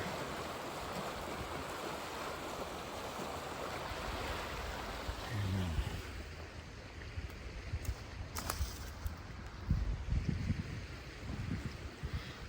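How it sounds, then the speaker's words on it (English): Steady broadband rush of creek water flowing at night along Conneaut Creek under a high forest canopy, close and continuous, with a few brief bumps and handling knocks partway through. "So we got the water rushing."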